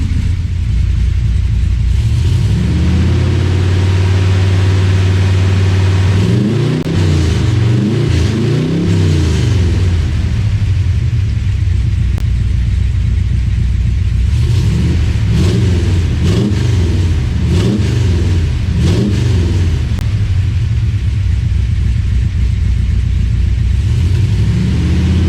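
A Corvette C3 with glass pack side pipes, loud and close, idling with a deep rumble and then revving hard in several rising and falling bursts, settling back to a throaty idle between them.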